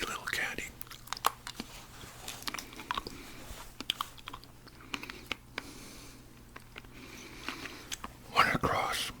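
Soft, sticky chewing of a small chewy candy close to the mic, with irregular wet clicks and mouth sounds spread through, under quiet whispered talk.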